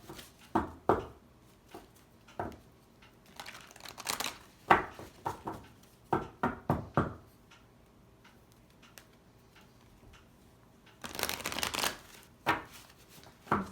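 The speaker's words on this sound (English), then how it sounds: "we'll pull some Love Oracle clarifiers from Doreen Virtue's deck" A Love Oracle card deck is shuffled by hand, giving quiet, scattered riffles, taps and soft flicks in irregular bursts, with a longer flurry near the end.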